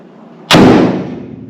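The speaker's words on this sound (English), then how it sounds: "That door has shut." A single heavy thud as a C10's door swings shut nearby, a sharp impact that fades over about a second.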